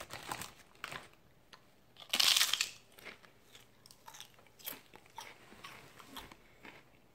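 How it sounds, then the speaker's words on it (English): Crunchy taco chips being bitten and chewed up close, one loud crunching bite followed by quieter irregular chewing crackles, no talk. "I'm going to eat some of these taco chips, and I want to see how they taste"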